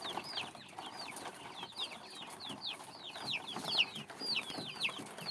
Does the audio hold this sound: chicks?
yes